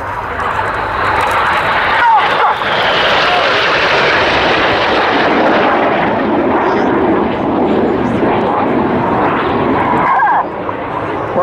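Red Arrows RAF jets fly over an air display at Waddington, making a loud, sustained engine roar that swells and holds throughout, with commentary heard beneath it.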